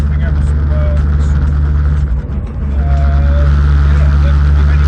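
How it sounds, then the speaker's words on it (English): A Mitsubishi Evo 5 RS with a lightweight flywheel, twin-plate clutch and solid mounts drives along, its gearbox and drivetrain giving a loud, steady droning hum with a faint whine, and a short dip in the engine note partway through. "Gearbox is noisy, but I would expect that with lightweight flywheel, twin plate, solid mounts."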